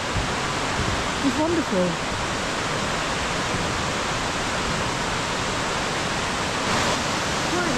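Steady broadband rush of river water pouring over a waterfall at a riverside walkway in a Peak District country park, loud and continuous from start to end, with a brief spoken remark over it.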